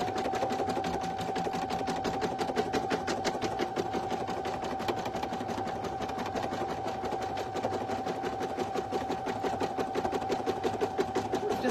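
A single needle embroidery machine stitches a design, its rapid even needle chatter running steady and close for the whole stretch with a constant motor whine beneath.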